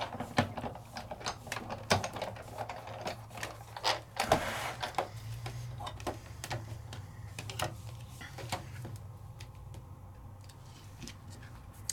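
Sizzix Big Shot die-cutting machine cranks an embossing folder through its rollers, with close, quiet irregular clicks and ratcheting ticks over a low mechanical rumble.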